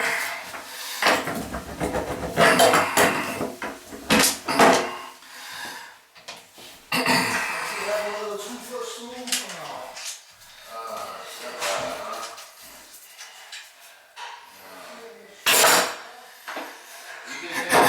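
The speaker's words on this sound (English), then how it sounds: "This is the different wrenches I use for that." Metal wrenches used on a leaking bathtub drain clink and clatter as they are picked up and set down in scattered bursts, close by, with someone talking between the sounds.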